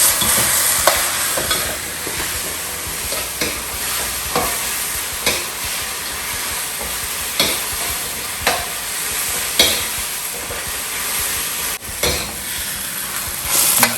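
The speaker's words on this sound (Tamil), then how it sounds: "நல்லா கலந்து விட்டுட்டிங்கன்னா கோபி மஞ்சூரியன் ரெடி" Fried cauliflower gobi manchurian sizzles in a hot pan while a spatula stirs it, with regular scraping strokes over a constant close fry.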